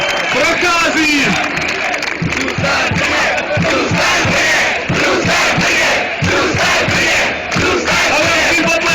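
A packed ice hockey arena crowd roars and chants rhythmically in unison, loud and continuous, with a voice carrying over the noise.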